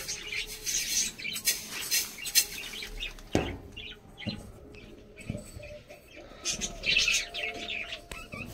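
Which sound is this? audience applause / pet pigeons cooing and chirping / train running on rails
pet pigeons cooing and chirping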